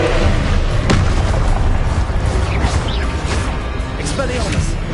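Confringo blasting spell explosion in the Hogwarts Legacy video game, a loud, continuous booming blast with crackling impacts and debris-like rumble throughout, with a voice speaking in the mix.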